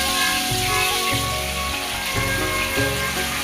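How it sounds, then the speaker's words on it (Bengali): Pomfret pieces frying in oil that is already hot, a steady dense sizzle running continuously under what sounds like background music, with no talk. "এখন আস্তে আস্তে মাছগুলো ভেজে নেব"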